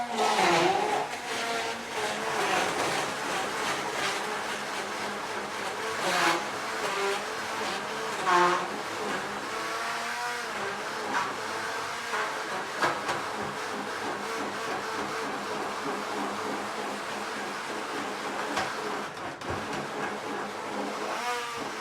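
Blender whirring through a banana smoothie, a loud continuous motor whine that shifts and surges in pitch as the contents churn, running steadily for about twenty seconds with no pauses.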